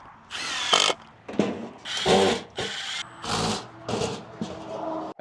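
A big cordless drill drives screws into a new mailbox post, running in several separate loud bursts of whirring with brief pauses between them, close up and with no talk.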